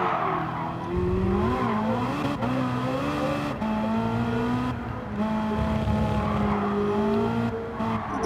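Race car engine in Gran Turismo 7, a Ferrari revving loudly up and down through gear changes, with steady rising whines and brief shifts, close and continuous.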